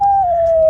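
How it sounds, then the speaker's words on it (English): A dog on a hiking trail howls in one long, loud, steady tone that falls slightly in pitch, close and alone with nothing else around it. "we went on a hike where we got to hear a dog sing."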